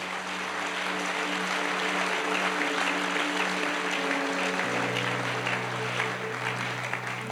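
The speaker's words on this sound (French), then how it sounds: "Est-ce que nous pouvons acclamer pour ceux qui sont levés?" A church congregation clapping in applause, a steady even patter of many hands held over soft sustained music, fairly quiet and unbroken.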